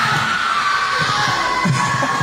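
A crowd of children shouting and cheering at the opening ceremony of a zone volleyball invitational, a loud sustained roar of high voices filling the venue without pause.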